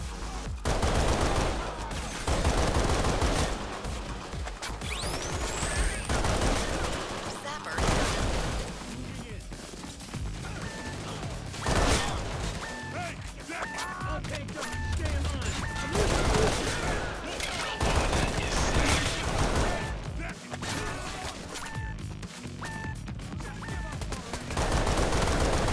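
Rapid full-auto gunfire from a pistol-caliber carbine in the video game Payday 3 crackles in repeated bursts over busy game noise, with a person talking over it throughout.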